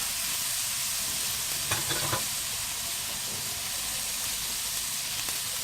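Ginger garlic paste, capsicum and other vegetables fry in hot oil, giving a steady, moderate sizzle, with a couple of brief stirring scrapes near the middle.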